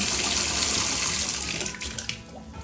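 Tap water runs steadily over a Tiffany Studios lamp base during rinsing, a loud, continuous close splashing hiss that eases and turns patchier near the end.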